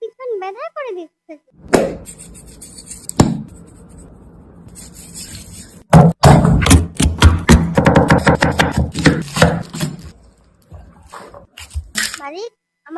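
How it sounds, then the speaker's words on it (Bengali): Finely chopping food with a knife, rapid crisp taps in dense clusters against a board, close and loud, with pauses and a couple of sharp knocks; a voice speaks at the start and between bursts. "আস্তে আস্তে কুচো। কুচি কুচি"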